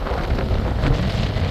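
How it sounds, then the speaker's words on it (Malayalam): Strong, dusty wind roars against the microphone during gas refilling work in Saudi Arabia, a dense, continuous low rumble that stays close and loud throughout. "ഇതിലൊക്കെ പറന്നു പോകുന്ന രീതിയിലുള്ള കാറ്റാണ്."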